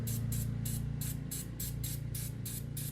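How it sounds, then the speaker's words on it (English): Aerosol carb cleaner sprayed on a Stihl 032 AV chainsaw in short repeated hissing bursts, about ten close, even pulses over a low steady hum. "Just give it a little spray, carb clean,"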